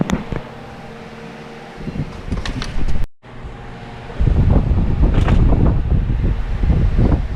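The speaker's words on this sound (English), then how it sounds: "I'm taking another bar, another frame, and I'm cutting it with a Sawzall." A Sawzall reciprocating saw cuts through a bar of a frame with a staple in it, a loud close buzzing rasp that runs briefly, stops for a moment, then resumes harder and steadier.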